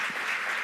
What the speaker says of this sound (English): I want to give a tremendous applause to our wonderful guests, Anne Martin Matthews and Margaret Gillis